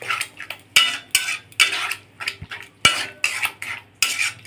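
A spoon scrapes and clinks against a pan while a raw mango mixture with turmeric and Kashmiri chili powder is stirred, in short repeated bursts of metallic scraping close to the microphone.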